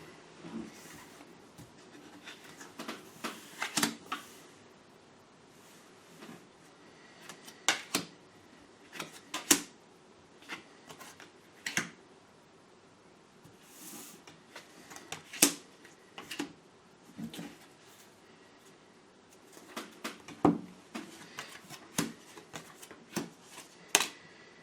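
Tarot cards riffled and shuffled in soft, irregular bursts with quiet pauses between, close by and fairly faint, no voices.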